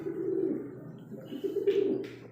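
An imported breeder pigeon cooing in a loft, a close, short burst of low, throaty rolling coos with a brief higher flutter near the end.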